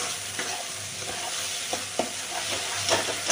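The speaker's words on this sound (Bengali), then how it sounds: "এবার পোস্তটাও এর সাথে একটু ভাজা ভাজা করে নেব" Poppy seed paste and tomato frying in a pan give a steady sizzle, broken by repeated scraping stirs of a spatula, close up with no speech.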